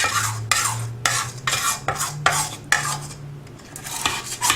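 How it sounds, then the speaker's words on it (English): A utensil scrapes around the sides of a bowl of cake batter in repeated, rhythmic strokes, close and fairly loud, with a low hum in the background. "scrape the sides down a little bit."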